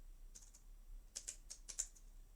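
Quiet computer keyboard typing comes as a short burst of light, close clicks, a few scattered taps followed by a quicker cluster of keystrokes.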